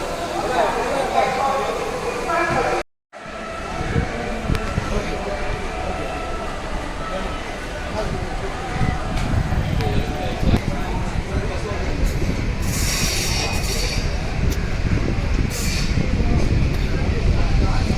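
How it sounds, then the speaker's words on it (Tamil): A local passenger train from Nagapattinam rumbles steadily along the rails, a loud continuous roar with rattling and clatter throughout, heard from inside the carriage. "இப்போ லோக்கல் ட்ரெயின் கிளம்பிடுச்சு நாகப்பட்டினத்துலேருந்து"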